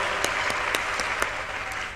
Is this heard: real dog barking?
no